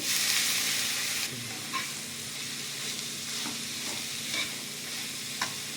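Grated papaya hits hot mustard oil tempered with bay leaf, dried red chilli and black cumin: a loud opening sizzle that settles into a softer steady fry, with scattered scraping clicks from stirring.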